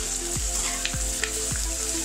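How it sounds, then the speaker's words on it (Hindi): Chopped tinda (apple gourd) stir-fried with onions over a high flame, a loud, steady close sizzle with three regular scraping strokes of the spoon, no talking. "और उनको भी ना प्याज के साथ फ्राई कर दूंगी"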